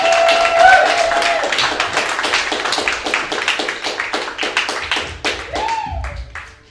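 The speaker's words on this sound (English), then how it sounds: "start giving him a round of applause as we welcome to the stage the amazing H." An audience applauds a performer being welcomed on stage at an awards showcase, a loud burst of many clapping hands that thins toward the end, with a brief voice-like tone near the close.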